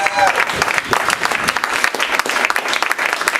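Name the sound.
audience round of applause for Creative Alliance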